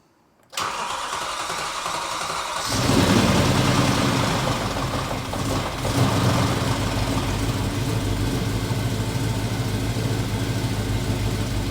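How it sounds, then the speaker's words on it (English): A V8 car engine, just back from a manifold repair, cranks and catches after a brief silence, then settles into a loud, steady, rumbling idle that carries on alone to the end. "Now, that does sound like a V8."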